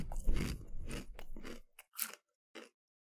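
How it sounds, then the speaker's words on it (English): Potato chips crunched up close into a microphone for ASMR, a dense run of loud crunching chews followed by a few sparser, separate bites and crackles with silence between. "ASMR chip action."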